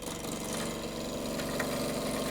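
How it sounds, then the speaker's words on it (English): A wood lathe spins a koa bowl blank for a natural edge bowl, its motor giving a steady, continuous hum at a close, even level with no voices over it. "I have the speed of the lathe up"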